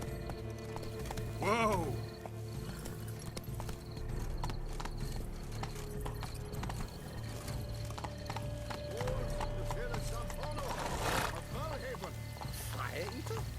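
Horse hooves clip-clop in The Witcher 3 as the rider sets off, a steady rhythmic trot mixed with a whinny and game ambience, while someone speaks over it.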